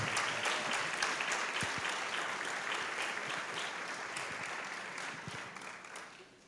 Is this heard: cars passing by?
no